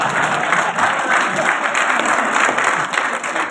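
A hall full of teachers at a district education conference claps steadily, a dense continuous wash of applause with faint crowd murmur mixed in.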